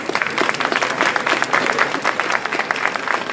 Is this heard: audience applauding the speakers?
yes